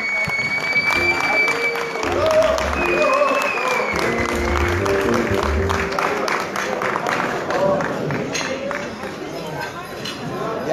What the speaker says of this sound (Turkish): Alkışları güçlü bir şekilde istiyorum dostlarım.